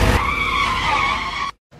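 A car turning around with its tires skidding, a loud, sustained screech that holds steady for over a second and then cuts off abruptly, followed by a short quiet gap.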